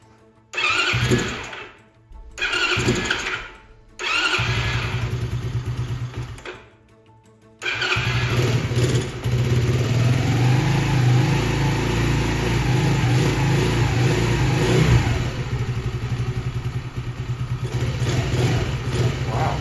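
A minibike engine, a Honda CT70 clone, cranks in a few short bursts with the choke on, catches, then runs loud and rough with sputtering revs, close up and continuous.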